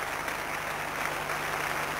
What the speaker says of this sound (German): Das hören Sie am Beifall und später an den Zwischenrufen.